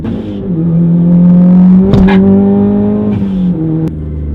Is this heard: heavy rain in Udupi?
no